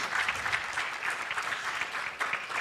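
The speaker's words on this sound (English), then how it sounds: "Let's keep clapping until she gets here" Steady applause from a conference audience at a women's leadership forum in Africa, welcoming a Tanzanian party leader onto a panel; dense, even clapping sustained throughout without speech.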